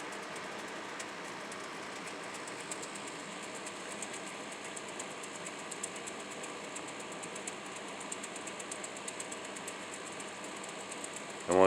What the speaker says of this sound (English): I apologize for the background noise of the air conditioner.